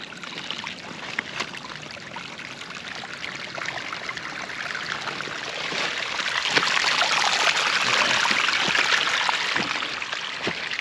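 Steady rushing and babbling of water flowing down a stream, continuous and close, growing slightly louder and fuller toward the end.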